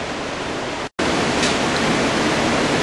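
About 1,000 gallons per minute of water rushes through a 6-inch mag meter as a loud, steady hiss-like roar, broken once by a split-second dropout.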